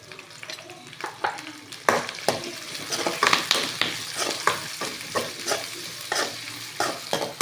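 Curry leaves stir-fried in a pan, with a steady sizzle and repeated scraping and stirring strokes of a spoon, close up and without talk.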